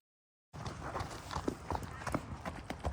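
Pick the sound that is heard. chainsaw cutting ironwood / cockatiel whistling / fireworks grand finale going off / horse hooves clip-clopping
horse hooves clip-clopping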